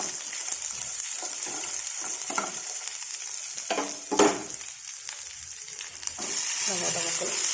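Green chillies, ginger and onion fry in a pan for a tomato-peanut chutney, giving a steady close sizzle broken by stirring scrapes and a brief louder clatter near the middle, with no talking.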